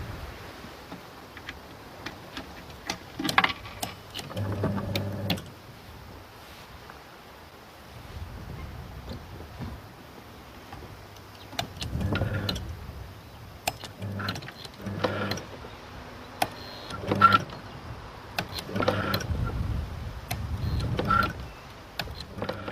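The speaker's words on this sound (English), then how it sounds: "The relays control the motor." A relay-controlled electric motor drives a handmade nutcracker machine, whirring in short, repeated bursts with quiet gaps and faint clicks between runs.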